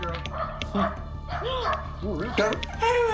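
A dog yelps and whimpers in short high-pitched bursts, mixed with barks, while people talk over it nearby.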